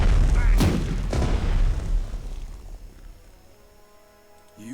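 Heavy naval guns firing in the Pacific war strategy game Strategic Mind: Pacific, a couple of loud booming blasts up front followed by decaying rumble and fading echoes.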